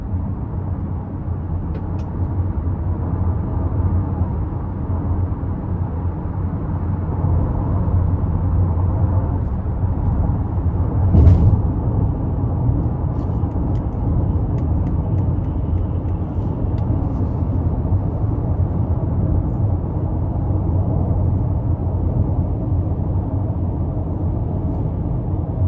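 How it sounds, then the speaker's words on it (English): Cabin of a 2022 Cadillac XT5 Luxury with a 2.0T engine cruising on the road, giving a steady, subdued low rumble of road and engine noise with one brief thump partway through. "So a really smooth ride so far, which is what you'd expect from a Cadillac."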